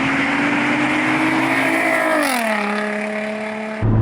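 Straight-piped 2004 Nissan 350Z with a VQ35DE engine, heard from inside the car as a loud, steady, raspy drone whose pitch holds and then falls as the revs drop, ending abruptly.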